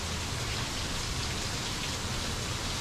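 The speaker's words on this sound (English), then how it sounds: "it didn't really look like we were gonna get too much rain today, but I guess it showed up anyway" Rain pouring on a dairy farm in summer, a dense, even hiss of drops striking surfaces nearby, loud and unbroken with no voices.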